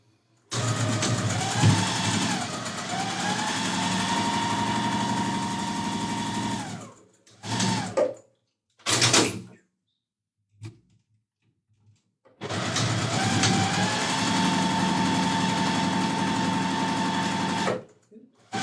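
A home sewing machine runs fast stitching quilt blocks, a loud steady whir in two long bursts with short stops and brief restarts between.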